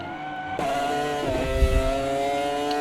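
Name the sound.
race cars driving at Bathurst in a racing video game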